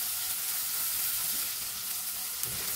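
Chicken with tomato sauce and soy sauce sizzles in a pan for chicken noodles, a steady, close hissing fry with no voices.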